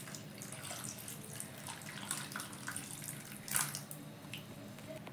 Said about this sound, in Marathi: आता याच्यात मी पाणी घालत आहे